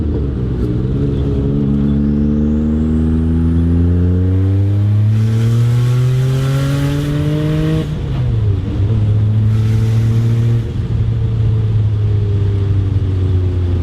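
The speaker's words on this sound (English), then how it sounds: "The car keeps making power through the power band." Twin-turbo Porsche 930 Turbo accelerating hard, loud and close, its engine note climbing steadily through the revs for several seconds, dipping briefly at a gear change, then pulling upward again with a rising whine.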